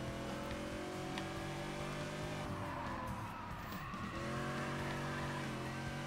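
Racing cars in the video game Gear Club Unlimited 2, a steady loud engine drone with sustained tire squeals and skids throughout, no pauses.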